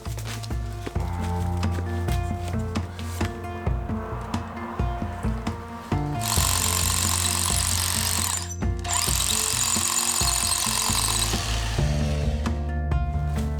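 A heavy power drill hammers steadily into concrete, loud and continuous, with a brief pause before grinding on.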